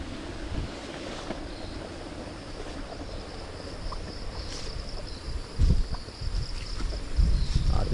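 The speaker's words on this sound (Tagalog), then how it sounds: "Malakas ang hangin" Strong wind gusts roar across a cassava field, a constant broadband rush with low buffeting that grows heavier toward the end.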